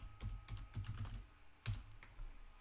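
Someone types a password on a computer keyboard with a quick run of soft, close keystrokes, a brief pause and a few more taps.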